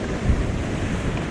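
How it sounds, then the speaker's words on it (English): Sea waves wash onto the shore at Hemsby, Norfolk, a constant broadband rush with wind buffeting the microphone and no voices. "I don't know whether we can get them, the waves and that."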